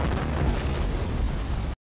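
A dramatic explosion effect roars loudly and continuously, a dense broadband rumble with heavy low end sustained for nearly two seconds before cutting off abruptly, with no voices present.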